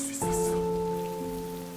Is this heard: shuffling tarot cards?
no